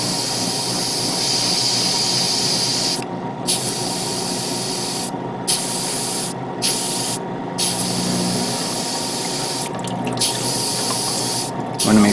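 An airbrush or spray can hisses steadily as coating is sprayed onto parts of an RG Hi-Nu Gundam model kit, with several brief pauses breaking the continuous close spray.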